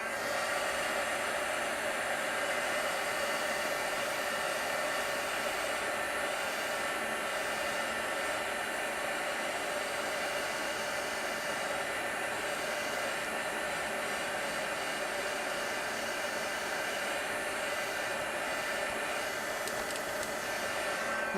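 A hair dryer blows steadily on a small miniature diorama piece for a vintage garage scene, a loud, continuous close-up whoosh with a faint shifting hiss and no talking.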